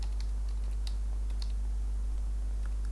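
Soft, rapid keyboard typing during Python coding, faint scattered key clicks under a steady low electrical hum, with no talking.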